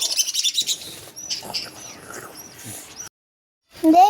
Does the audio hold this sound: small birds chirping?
yes